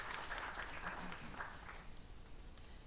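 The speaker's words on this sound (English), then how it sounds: "An applause, please." Audience at a Smart Villages conference applauds after a speaker's introduction, a steady, moderately distant wash of clapping that slowly thins toward the end.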